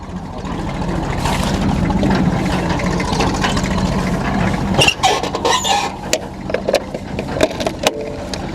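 A tractor engine starts and runs alongside a baler machine, a loud steady low rumble throughout with sharper clanks and bursts after the midpoint.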